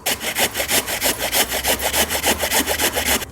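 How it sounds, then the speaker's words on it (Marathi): Onions rubbed by hand over a grater in a home kitchen, a fast, even rhythm of about six rasping strokes per second, loud and close, with no voices. "आपला भोपळा किसून झाला आता आपण कांदे किसून घेऊ"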